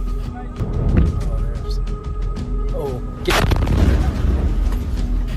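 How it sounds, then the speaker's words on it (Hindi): Explosions from an Iranian missile attack on a US base, heard as a few heavy booms and blasts with rumbling between them, one big burst standing out partway through, recorded close and loud. "यहां अमेरिकी सैनिक ईरान के मिसाइल अटैक को रिकॉर्ड कर रहा था।"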